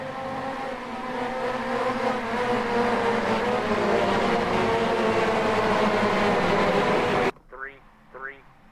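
Touring cars racing around a track in a sim racing game, a loud continuous engine roar with shifting pitch that holds steady for about seven seconds, then cuts off abruptly, followed by faint brief engine sweeps.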